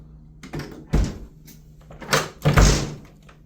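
A door swung shut against a newly adjusted electric strike lock, giving several separate thumps and knocks spread over a few seconds, moderately close with no talking.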